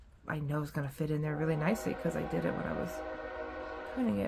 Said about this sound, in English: I'm sorry about the train, you guys.